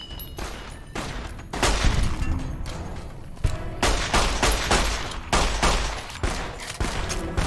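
Sustained gunfire aimed at the player in Fallout New Vegas, loud repeated bursts and sharp cracks with heavy thumps mixed in, rolling on in uneven volleys with no pauses.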